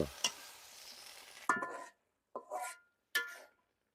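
Malabar spinach leaves dropped into a frying pan for a prawn, potato and eggplant chorchori, giving a few short rustling, sizzling bursts separated by silent gaps, close and moderately loud, with no talk.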